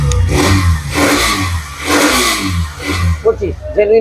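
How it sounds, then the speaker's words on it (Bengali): A used Hero motorcycle's four-stroke engine runs close by, revving up and easing back in steady surges, with some voices talking over the engine noise. "গাড়ির সাউন্ড শুনেন একদম স্মুথ"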